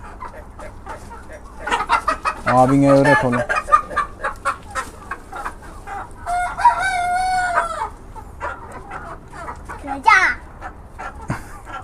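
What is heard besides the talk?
chicken or rooster clucking and crowing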